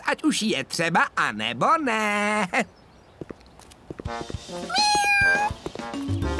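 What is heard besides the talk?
trapped kitten meowing in a cartoon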